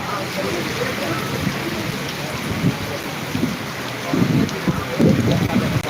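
Heavy monsoon downpour in Jamkandorna, a constant loud hiss of rain on surfaces with low rumbling swells of thunder building toward the end.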